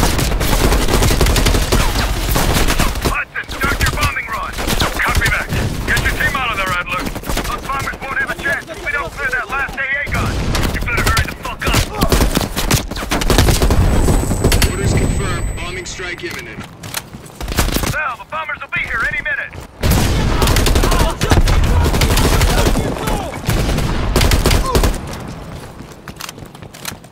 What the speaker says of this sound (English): Heavy MG on the ridge.